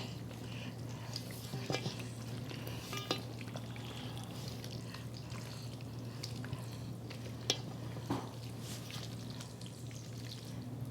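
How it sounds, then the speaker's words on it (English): Chicken bacon ranch bake mixture being stirred in a dish, a soft, low continuous scraping and wet mixing under a steady background hum, with a few faint clinks along the way. "we're going to stir this mixture all together"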